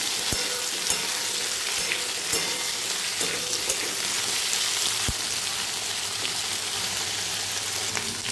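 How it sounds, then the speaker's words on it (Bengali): Potatoes fry lightly in hot oil, giving a constant, even sizzle with a few scattered utensil clicks close by. "তেলের মধ্যে হালকা ভেজে নেবো আলুগুলো"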